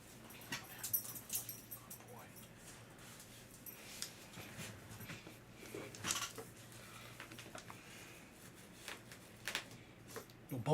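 A dog whimpers and gives small yips, faint and intermittent, mixed with scattered soft rustling and handling noises in a quiet room.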